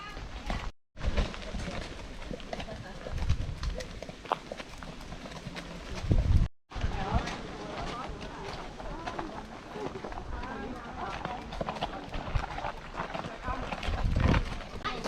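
Hooves clip-clop on a coastal path as a group of eight or nine riding horses walks along toward the beach, a steady close clatter with a snort or whinny, and people talking throughout.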